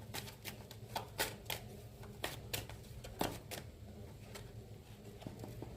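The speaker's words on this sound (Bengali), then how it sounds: "আর একটা কার্ড নেব।" Cards are drawn from a tarot deck, giving a quiet series of crisp, irregular flicks and slaps up close.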